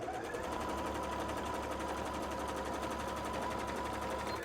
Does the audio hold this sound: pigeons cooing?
no